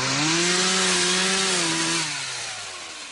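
A chainsaw cutting trees runs loud and close with a steady droning whine, then its pitch drops and fades as it winds down.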